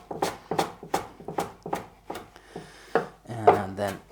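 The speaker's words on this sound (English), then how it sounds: "this I'll just roll up and give that a rough chop first" A knife rough-chops a rolled-up bunch of cilantro leaves on a cutting board, with about eight brisk, evenly spaced thuds, then a rustling scrape and a final clatter, close and clear.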